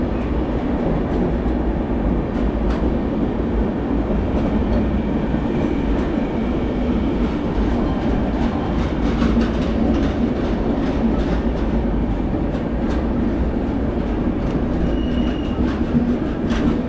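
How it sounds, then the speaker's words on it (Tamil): A steady, loud rumble of a Vande Bharat express train running on rails, with a continuous rolling roar and faint clatter and squeal from the wheels throughout and no one speaking. "இதுதான் இந்தியாவில் லாங்கஸ்ட் ட்ரெயின்."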